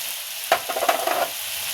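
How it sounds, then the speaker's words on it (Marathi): Vegetable roll filling frying in a pan and being stirred: a constant hiss of sizzling with a short burst of scraping and clinking strokes in the middle, close up, no speech. "त्याला सतत हलवत राहायचंय, नाहीतर ते खाली लागण्याची शक्यता असते."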